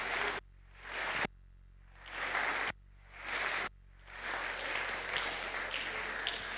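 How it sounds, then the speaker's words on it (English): Audience at a Rotary youth leadership academy applauds a speaker in a standing ovation, bursts of clapping broken by short gaps, then building into sustained, loud, dense applause. "Ryla Swio, please let us all be upstanding and give our speaker a round of applause, a standing ovation for"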